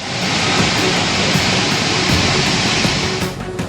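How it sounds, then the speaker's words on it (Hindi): Yamuna river water rushes out of the Hathni Kund barrage, a loud, steady broadband roar that holds without a break before easing slightly at the end. "हथिनी कुंड बैराज में भी पानी का स्तर बढ़ता जा रहा है और ये पानी अब निकाला जा रहा है"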